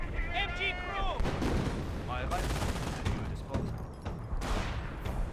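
Rapid gunfire and sharp shots crackle through a Company of Heroes battle, with sniper fire among the bursts, loud and dense under a steady din while a voice speaks over the action.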